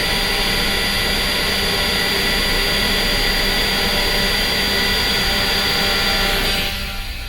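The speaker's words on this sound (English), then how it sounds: "now we're going to listen with our ears when the spindle makes contact." Spindle of a Lunyee 3018 Pro Ultra desktop CNC mill lowering toward aluminum stock: a steady, loud high whine with a broad hiss, holding constant for several seconds before tapering slightly at the end.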